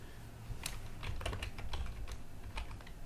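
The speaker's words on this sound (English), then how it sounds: "So maybe hit the start menu and type activate" Fingers tap out a quick burst of keystrokes on a computer keyboard, a close rapid clatter of light clicks over a constant background hiss, with no speech.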